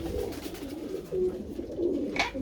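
Racing pigeons coo inside a loft of flying birds, a low throaty rolling call repeating several times at close range over a steady murmur of more birds and shuffling in the background.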